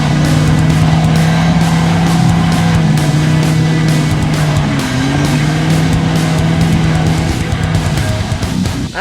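A tuned BMW car engine pulls in first gear, a loud, steady drone with a sustained low hum and slight pitch shifts throughout, heard close up with no talking.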